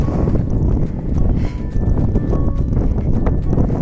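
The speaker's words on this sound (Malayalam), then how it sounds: "നല്ല കാറ്റുണ്ട്" Strong wind sweeps across the rocky hilltop at Kalluvathukkal Heavenly Rock, a loud, steady roar buffeting the microphone for the whole stretch.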